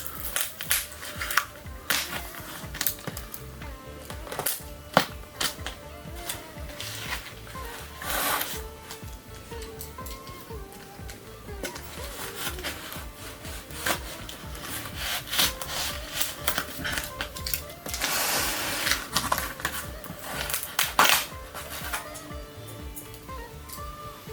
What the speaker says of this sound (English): Let's start unboxing with our trusty knife.